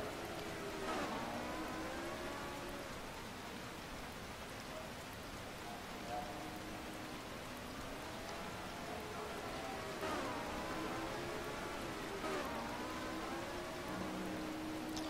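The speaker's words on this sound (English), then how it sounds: "Hopefully that gets the rain to stop." Steady rain falls on a racing car in rFactor 2, driving a Matra at Longford, a continuous hiss of drops with engine tones rising and falling beneath it.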